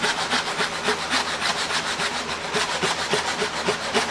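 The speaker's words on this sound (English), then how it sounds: "So I am nibbling my way across to establish a kerf." Close hand saw rasping through wood in quick, short, even strokes while starting a kerf, a continuous rhythmic scratching with no talking.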